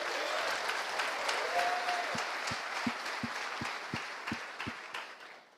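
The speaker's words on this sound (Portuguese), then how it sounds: "aplauda Jesus mais uma vez." A church congregation applauding, broad continuous clapping from many hands at moderate distance, with a brief sung or voiced tone early on and a few deeper regular thumps toward the end as the applause fades.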